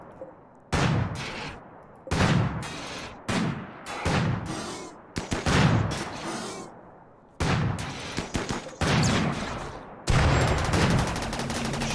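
An Inferno Launcher and other weapons fire in a RimWorld desert battle, making repeated loud, sharp bursts and volleys that come in uneven clusters with short gaps, close and dense across the stretch, with no talking.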